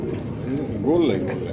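A soft, low pigeon coo rises and falls once against a murmuring background of voices.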